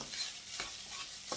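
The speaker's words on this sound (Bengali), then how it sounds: "আমি চাউলটাকে নাড়াচাড়া করছি" Rice being stirred in a pan for Indonesian nasi goreng, giving a soft steady frying hiss with a few brief scraping strokes of the spatula, close and fairly quiet.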